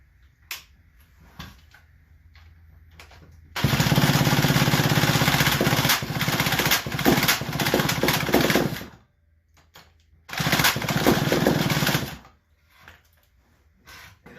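A McCulloch D44 hotsaw, a two-stroke racing chainsaw, starts with a quiet idle, then roars loud and close at high revs for about five seconds, drops back, and bursts to full throttle again before settling.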